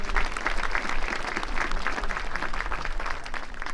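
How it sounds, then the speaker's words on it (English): A graduation ceremony audience applauds the Triad High School band, dense steady clapping filling the whole stretch, fairly close and loud, with no voices over it. "Let's give a big round of applause for the Triad High School band."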